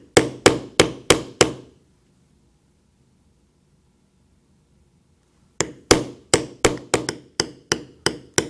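A mallet taps a leather stamping tool while tooling a tri-weave basket pattern into a belt: a quick run of five crisp, close knocks, a silent pause, then a longer steady series of about ten more.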